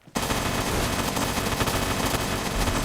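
Sustained rapid automatic gunfire from PUBG Mobile, on the Erangel map, fires continuously and loudly after a brief quiet start.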